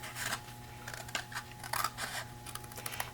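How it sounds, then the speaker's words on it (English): Metal snips cut through cardstock while a file folder card is being made, giving a run of crisp, close snipping and crunching bursts with no talking. "next what I need to do is come in with my snips, and I'm going to cut off"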